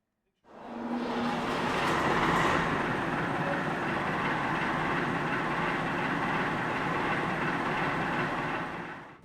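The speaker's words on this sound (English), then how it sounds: "now we turn our attention to the turntable demonstration, which involved a little diesel shunter" A little 1957 Robert Stephenson and Hawthorns diesel shunter running during a turntable demonstration at a roundhouse, giving a steady, moderately loud engine drone and rumble that holds evenly for about nine seconds, with no talk.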